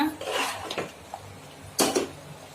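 Ghee being stirred into chicken biryani in a pressure cooker, a few metallic scrapes and clinks of a ladle against the pot, close and intermittent.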